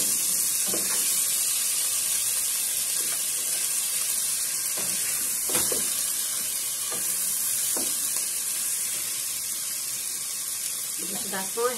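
Zucchini and tomato sauté in a hot pan with a continuous close sizzle, broken by stirring scrapes of a utensil at irregular intervals.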